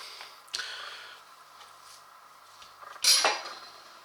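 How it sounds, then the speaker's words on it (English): A metal fork stabbing into the skin of raw pork belly, two sharp pricks about two and a half seconds apart, close and fairly quiet against a faint background hum. "we've got to pierce the surface of these"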